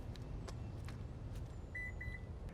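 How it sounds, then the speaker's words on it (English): Short electronic warning beeps chirp a few times in quick succession inside a 2021 Toyota RAV4 Prime SE over a low idling rumble, with faint clicks nearby. "Did you hear that beep beep?"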